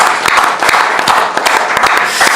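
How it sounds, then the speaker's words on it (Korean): A church congregation claps together in a steady, dense burst of applause at an evening Korean worship seminar, many hands close and loud throughout, with no talk over it. "우리 주님께 감사와 영광의 박수 합시다."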